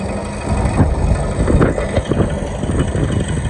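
A tractor sows fertiliser along a field headland, its engine giving a steady mid-range drone with faint rattles and mechanical clatter, heard from close by with no talk.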